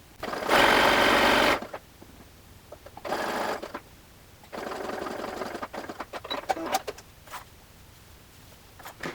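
Up close, a sewing machine runs in three separate bursts, the first longest, stitching a shawl collar piece right along a stay stitching line toward the corner, with light handling clicks between runs.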